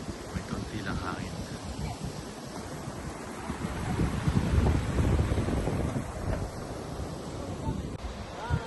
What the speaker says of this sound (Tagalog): May konti lang hangin.